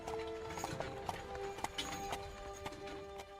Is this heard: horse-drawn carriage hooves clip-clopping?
yes